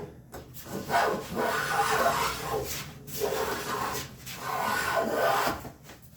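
Hand plane taking a few long, rasping swipes down the edge of a walnut board while jointing it for a bookcase glue-up, with each stroke a steady woody shearing hiss close by and short pauses between passes.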